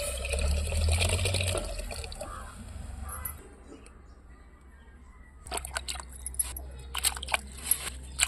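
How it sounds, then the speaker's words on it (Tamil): Dissolved water is poured into fish curry cooking in a pot, a steady liquid splash for a few seconds that fades into quiet, then scattered bubbling and sizzling pops, with no voices. "நம்ம கரைச்சி தண்ணியை ஊற்றிக்கலாம்."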